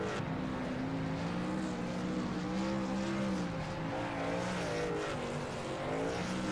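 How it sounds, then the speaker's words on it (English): Craftsman series race trucks roar past on a superspeedway oval, engines droning loudly and steadily with shifting pitch, tires burning beneath the continuous din. "hear them burning the tires down, hear those engines roar in those Craftsman trucks"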